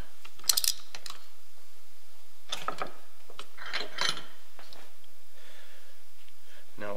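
A screw being tightened on a Black Rain Ordnance DIT trigger, heard as a few short, faint metallic clicks and ratcheting bursts with quiet pauses between, close up.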